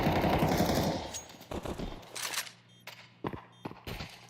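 Gunfire during a professional Counter-Strike esports match, a dense burst of automatic fire followed by a few sharp isolated shots and scattered footsteps, close and clear with no talk over it.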